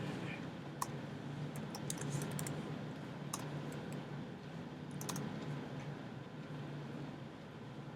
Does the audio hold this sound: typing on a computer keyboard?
yes